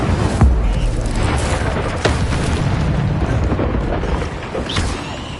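Incendio fire spell cast in Hogwarts Legacy on PS5: a dense, loud burst of roaring, booming fire effects that holds steady for several seconds, with a sharper thud near the start.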